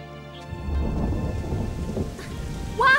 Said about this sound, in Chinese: 哇，下雨了